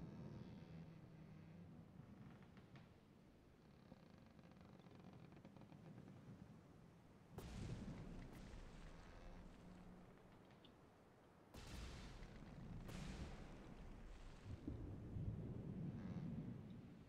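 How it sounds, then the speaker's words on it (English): A Minecraft torpedo blast sinking the SS France: low, faint rumbling, then two heavy booming impacts, each followed by a sustained roar that dies away slowly, with no voices. "There's a quite big blast, and now the ship is starting down."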